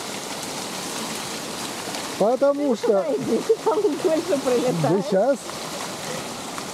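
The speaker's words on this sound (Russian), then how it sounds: "Потому что здесь вот сверху летит кипяток" Hot sulphur spring water pours down from above like a shower, giving a steady broadband rush; someone talks over it in the middle of the clip.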